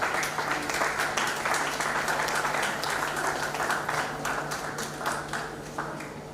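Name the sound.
audience applauding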